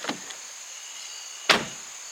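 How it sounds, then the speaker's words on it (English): A truck door slams shut with one solid thump, preceded by a softer click, against faint background hiss and an insect-like whine, no talk. "the sound of the door when it shuts"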